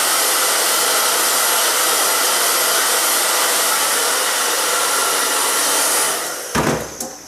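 A hair dryer blows loud and steady up close while sectioned hair is dried for volume, a continuous rushing roar that cuts off abruptly near the end.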